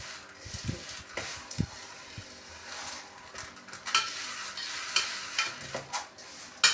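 Spices being stirred into a pan of fried chana dal namkeen, with a dry scraping and rustling of lentils against the pan, steady through the clip with a few sharper knocks toward the end.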